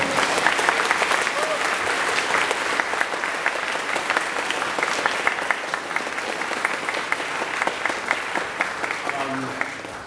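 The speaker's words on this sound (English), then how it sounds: "Wherever you are, Karen, please, everyone, please give him a round of applause." Full audience applause at a comedy-music concert at Manchester Academy, a steady roar of many hands clapping throughout, loud and unbroken with faint cheers underneath.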